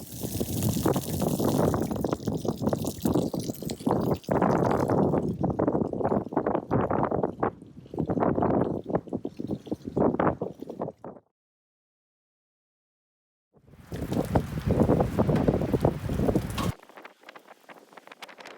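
Wind gusts across a microphone outdoors on a wet, grey day high above open countryside. The buffeting is loud and rough for about eleven seconds, stops dead, then returns in a shorter burst before fading to a quieter hiss.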